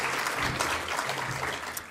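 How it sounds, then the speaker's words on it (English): Lecture audience claps for the Radford Lecture presenter, producing a continuous, fairly even round of applause with a low hum underneath, lasting just under two seconds. "Deserves a clap."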